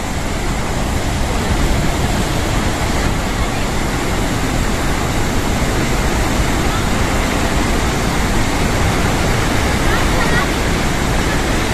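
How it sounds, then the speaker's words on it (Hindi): The Chitrakoot waterfall drops about 90 feet, filling the air with a loud, unbroken roar of falling water that holds steady from start to finish. "ये है हमार जल प्रताप, जो कि 90 फीट से नीचे पानी गिरा थे"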